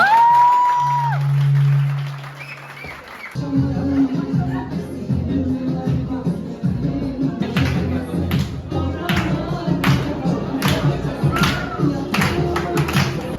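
A group of friends breaks into loud applause and cheering after a pause, lively dense clapping with whoops and chatter continuing throughout.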